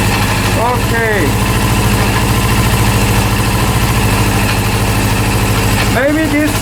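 A Honda CB400 motorcycle engine, freshly rebuilt, idling at low RPM indoors with a steady mechanical thrum and ticking, close and loud throughout, with someone speaking briefly near the start and end.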